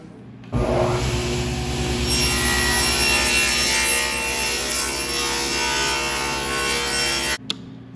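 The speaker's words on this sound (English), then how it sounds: "Set your saw blade so it's just barely going to cut that veneer off." A table saw blade, set just barely high, slices the veneer off a plywood scrap in one continuous loud whining cut of about seven seconds that starts and stops abruptly.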